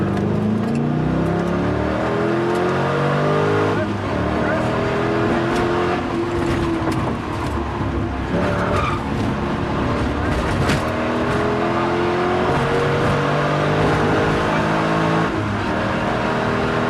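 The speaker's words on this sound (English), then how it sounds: "let's watch car 923 on a bit of a hairy ride" A rally car tears through a Targa Newfoundland stage, its engine loud and constant with repeated revs and gear shifts, accompanied by some speech.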